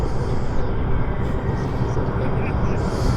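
An RCAF CP140 Aurora, a four-engine turboprop patrol aircraft, makes a low pass at an airshow with flaps and landing gear down, its engine roar loud, steady and broadband throughout, with a voice talking over it.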